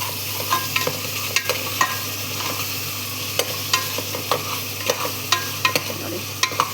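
Ginger garlic paste frying in a pan while a spoon stirs it, giving a steady sizzle broken by repeated scraping taps at an uneven rhythm, close and with no voices.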